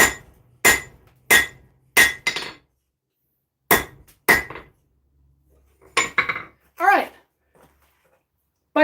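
Cross peen hammer forging a small metal blade, sharp ringing strikes in quick groups of two to four, close and loud with quiet gaps, a voice speaking briefly near the end.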